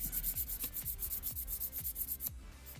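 Hand sanding a cabochon made from dung with 1,000 grit sandpaper, a close, rhythmic series of short rasping strokes, about two to three per second, heard alone.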